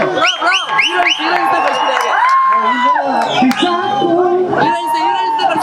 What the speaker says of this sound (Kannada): ಬನ್ನಿ ಜೋರ ಚಪ್ಪಾಳೆ ಎಲ್ಲರೂ.